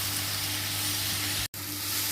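Crushed ginger and garlic sizzling with fried onions in oil, a steady close hiss with a low hum beneath it. It breaks for a brief silent gap before resuming.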